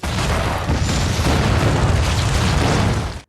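A single loud dynamite explosion in a film booms at close range, a dense roaring blast that holds for about three seconds before cutting off.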